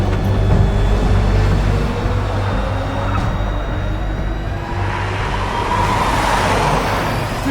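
A fleeing car swerves into the left lane at high speed to dodge a police stop stick, heard as loud steady road and engine roar with a rising whoosh as it passes close.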